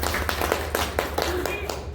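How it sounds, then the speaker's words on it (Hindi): A women's gathering at a meeting claps in a steady rhythm, sharp beats roughly a quarter second apart, while voices carry on over the clapping. "तो इन लोगों के लिए मैं एक बार जोरदार तालियां चाहूंगी आपसे"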